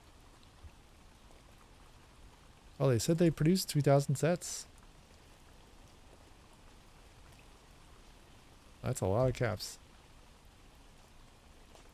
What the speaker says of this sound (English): let's turn the rain back on